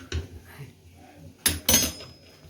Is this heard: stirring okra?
yes